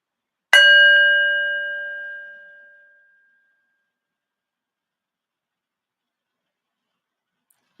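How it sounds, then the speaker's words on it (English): A single meditation bell struck once to open a session, ringing out clearly with a bright, sustained tone that slowly decays over a few seconds into silence. "I'm going to ring a bell to start, a bell to finish."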